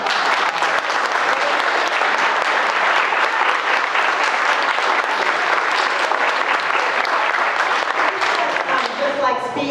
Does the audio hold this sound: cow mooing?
no